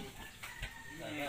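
A mother hen clucks in short bursts around a backyard farm, close by and fairly faint, while people talk over her.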